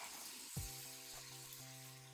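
Pancake batter sizzles faintly in a hot frying pan, a soft steady crackle under a low hum, with a brief clunk partway through.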